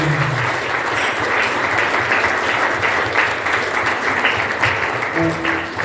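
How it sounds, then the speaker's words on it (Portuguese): Steady, dense clapping from a large church congregation fills the room, continuous and lively throughout, with a faint voice briefly audible near the end. "Aplauda o Senhor."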